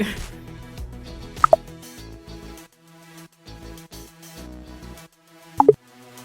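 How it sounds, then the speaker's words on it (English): A half stick of Land O'Lakes butter drops into a baking dish for an oven-baked seafood boil, giving two soft plops over quiet background music. "I'm going to add a half stick of this Land O'Lakes butter to the dish"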